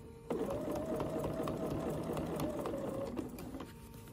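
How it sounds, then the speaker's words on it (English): A Bernina sewing machine fitted with the #71 foot runs steadily, stitching along the edge of quilt binding with a fast, even mechanical whir that holds for several seconds before easing off. "you can see that I am just stitching right along the edge of my binding"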